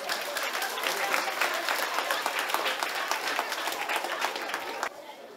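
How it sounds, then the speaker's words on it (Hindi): A hall audience gives loud, continuous applause to welcome a speaker at an event for free education of poor children, with many hands clapping together and murmuring voices underneath before it thins out at the end. "जोरदार तालियों से स्वागत।"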